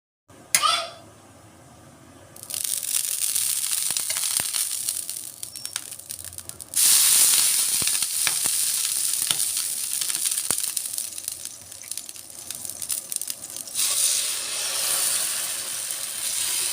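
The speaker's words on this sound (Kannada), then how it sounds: "ಫಸ್ಟು ದೋಸೆ ಹಾಕಿ ಕೊಟ್ಬಿಡ್ತೀನಿ." Dosa batter sizzles loudly on a hot pan in a home kitchen, a steady spray-like hiss that surges at the pour and swells again midway, running continuously with faint clinks.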